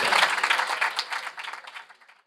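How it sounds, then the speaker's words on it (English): Audience applause at a public sector debate competition grand finale, honoring both debate teams: a dense burst of many hands clapping that fades out steadily over about two seconds. "Can we give both teams a round of applause for this exciting period of class examination"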